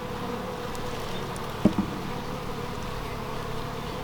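A dense, steady hum of many honeybees buzzing and fanning close by at a hive, continuous throughout with a brief soft knock partway through.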